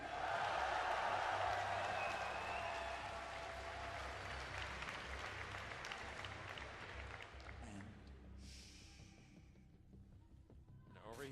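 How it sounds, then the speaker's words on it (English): Large arena crowd at the BlizzCon 2011 StarCraft 2 grand final cheering and applauding loudly, the roar swelling at first then gradually fading and thinning out over several seconds. "If you would like him to win, give a cheer for the underdog in this series, IM's MVP!"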